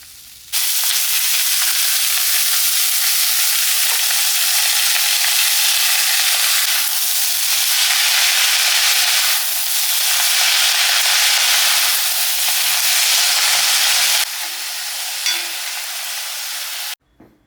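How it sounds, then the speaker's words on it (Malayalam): Cabbage stir-fried in a pan with dried red chillies for a thoree, a steady loud sizzle and frying hiss running throughout with faint stirring scrapes, ending abruptly. "ഇനിയിപ്പോൾ കാബേജ് നമുക്ക് അതിൽ ഇട്ട് ഇളക്കി എടുക്കാം"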